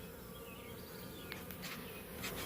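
A honey bee swarm holding several mated queens buzzes in a faint, continuous drone, with a few brief nearer buzzes as individual bees pass close.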